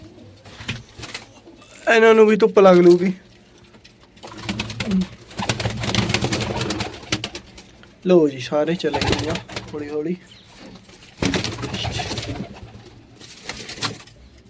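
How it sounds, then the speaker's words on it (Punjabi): Pet pigeons cooing loudly and repeatedly at close range as they are let out of their boxes into the sun, with someone talking between and over the calls. "ਤੇ ਹੁਣ ਕਬੂਤਰੀਆਂ ਕੱਢ ਦਿੰਦੇ ਆ ਸਾਰੀਆਂ ਬਾਹਰ"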